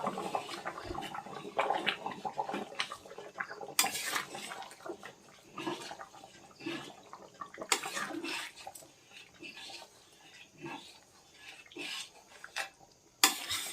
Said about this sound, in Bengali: আমি জলটা দিয়ে ভালো করে নেড়ে দিলাম।